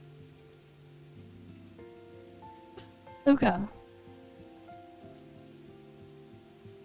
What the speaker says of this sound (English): And now it's raining in the game.